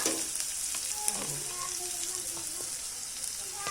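Whole cumin seeds with ginger, garlic and onion sizzle steadily in hot oil as a spoon stirs through them, a close, continuous frying hiss with scraping clicks, and faint voice tones drift in the background.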